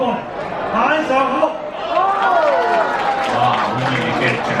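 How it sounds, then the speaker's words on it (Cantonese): Warm applause from an audience at a team's 17th anniversary celebration party, a dense crowd clapping and murmuring steadily throughout, with voices and some chatter mixed in. "哇，好熱烈嘅掌聲啊！"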